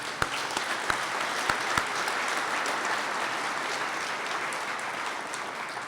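Audience applause at a keynote speech event, a dense steady wash of clapping from a large crowd that opens with a few sharp nearby claps, then continues evenly and loudly.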